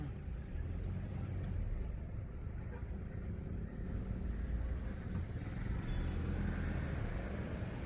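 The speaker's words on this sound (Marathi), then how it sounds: "तर आता आम्ही गाडी पार्किंगला लावतो" A car rolls slowly into a parking spot by a room stay on a family trip, its engine a steady low rumble with road noise held at one level the whole time, no voices over it.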